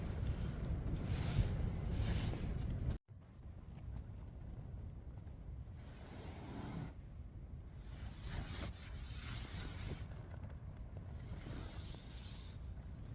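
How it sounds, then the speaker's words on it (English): Storm wind buffets a tent at a stealth camp behind industrial units, a loud roaring gust that cuts off abruptly, then lighter rushing gusts that swell and fade in repeated waves. "we're in a bit of a storm."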